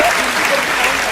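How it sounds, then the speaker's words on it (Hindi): An audience at a kavi sammelan (Hindi poetry gathering) claps loudly in a dense, continuous burst, with voices and cheers mixed into the crowd noise. "पीछे के लोग नहीं तालियां बजा दो"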